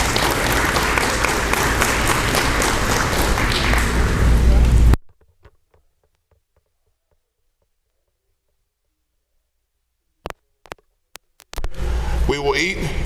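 A loud, dense round of applause from a crowd at a high school athletic awards program runs for about five seconds and then cuts off into near silence, followed by a few knocks and renewed noise.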